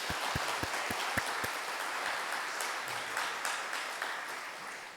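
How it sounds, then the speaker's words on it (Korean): A church congregation applauding during a worship service, beginning with a few strong, evenly spaced claps that give way to a steady, moderately distant ripple of clapping from the room. "영광의 박수를 주님께"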